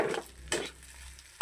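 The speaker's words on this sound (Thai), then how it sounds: "ผัดไปเรื่อยๆ" Egg fried rice stir-fried in a pan, with a few sharp scraping strokes of a utensil over a low sizzle, close and fairly quiet, no talk.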